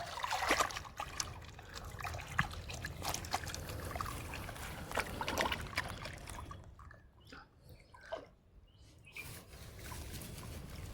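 Earthworms being rinsed with water at an outdoor organic fish farm, a close, continuous trickling and splashing of water with brief dribbles and handling noises, fairly faint and steady throughout.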